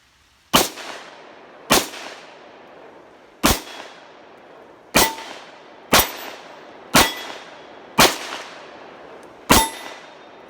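A CZ 52 pistol fired with 7.62 Tokarev rounds until the magazine is empty: eight loud, sharp reports at uneven intervals of roughly one to two seconds, each followed by a brief echoing decay.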